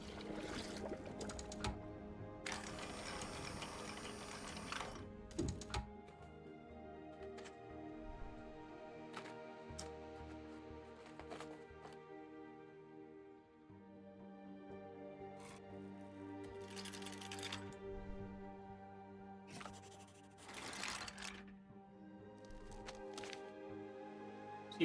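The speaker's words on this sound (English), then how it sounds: "It's a circuit board printer." A circuit board printer runs on a factory floor in the video game The House of Tesla, giving a steady mechanical whirring with repeated clicking and chattering bursts, fairly quiet and continuous for the whole stretch, with no talk over it.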